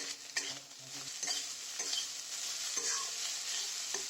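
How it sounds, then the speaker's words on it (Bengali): Gobindobhog rice is stirred with vegetables and shrimp in a frying pan for Bengali-style fried rice, the spatula scraping and clacking in irregular strokes over a constant close sizzle, no voices. "এক হাতা চাল, এক হাতা সবজি এইভাবে দিয়ে নাড়াতে হবে।"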